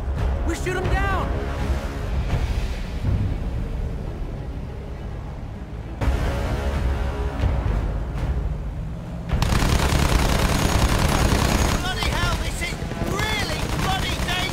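Machine gun fire aimed at German planes in Battlefield 1, rapid bursts and booms set against engine drone, with loud shouted voices over the shooting.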